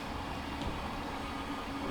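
A Class 455 train in South West Trains livery passes on the South West Main Line near Earlsfield in Train Simulator Classic, a steady rumbling rush of wheels and motors, close and continuous.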